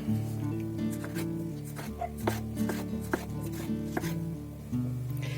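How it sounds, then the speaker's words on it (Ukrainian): A knife chops tomatoes into quarters on a cutting board, a run of crisp, evenly spaced knocks at close range, with no talking. "три більші, нарізаю четвертинками."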